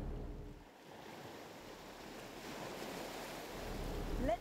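Ocean waves wash onto a shore in a soft, continuous surf with a gentle swell and some wind noise, building slightly toward the end; quiet and distant-sounding, with no voices.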